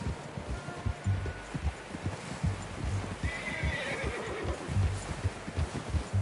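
A horse in the video game Red Dead Redemption 2 gives a loud, clear whinny, with hoof clip-clop and rustling around it throughout.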